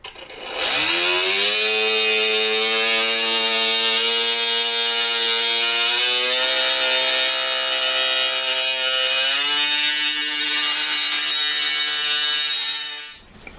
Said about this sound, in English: I'm going to do it with a little cut-off wheel, a little mini grinding disc.